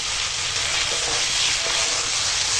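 Fried pointed gourd tossed and sautéed in a hot pan for a prawn and gourd curry, a dense continuous sizzle and hiss held close throughout.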